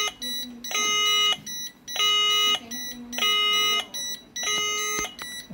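An INIM addressable fire suppression panel's stage one sounder, set off by smoke, beeps loudly in a regular on-off pattern of four long electronic tones close by.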